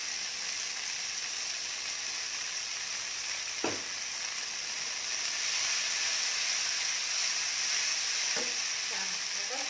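Soaked glass noodles stir-fried with fried garlic give a steady, close hiss of sizzling oil with a couple of brief scraping stirs. The sizzle grows slightly louder toward the end, and no one speaks.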